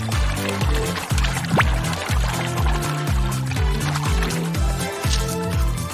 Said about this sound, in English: Just add color to silicone and mix it up.